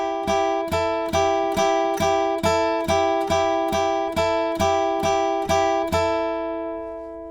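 Electric guitar picks the closing line of a solo, played without a capo: a repeating four-note phrase of clean, evenly spaced plucked notes ringing out clearly and alone, the last note left to decay.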